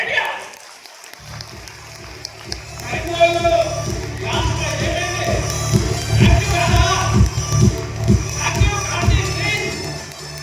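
An audience at a seminar claps in a steady, rhythmic unison beat, loud and close, continuing for several seconds while a voice talks over the applause.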